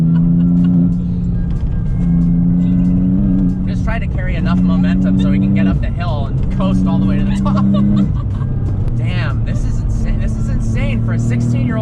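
A 16-year-old car drives up a hill, its engine droning steadily close by with a low hum that rises and falls in pitch, while people talk and laugh over it.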